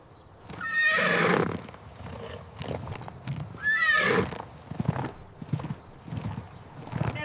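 An AI-generated horse clip-clops along with rhythmic hoofbeats, broken by two loud, close whinnies, one near the start and one midway, with no talking.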